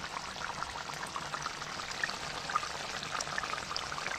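Water pours and splashes steadily while rice or fish is rinsed in a kitchen, a soft, continuous close-up trickle with no talking.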